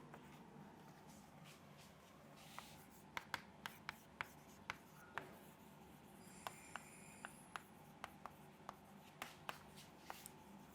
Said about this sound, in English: So I am going to write this down